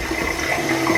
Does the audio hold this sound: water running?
yes